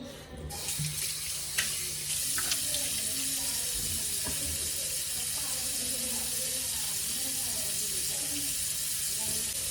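Tap water runs steadily into a sink while a face is washed, a continuous close hiss with a few brief splashes and knocks, no talk over it.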